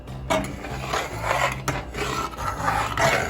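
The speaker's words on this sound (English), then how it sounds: "I'm gonna keep stirring it a little bit and just wait for the stove to come to a boil" Homemade porridge is stirred in a pot on a stove as it heats toward a boil, giving a continuous close scraping and rasping of a spoon against the pot.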